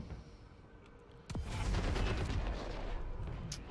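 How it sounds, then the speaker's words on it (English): A grenade going off in the tactical shooter Valorant: a sharp boom with a rumbling blast that lingers, preceded by quieter game ambience. "Grenade's going out."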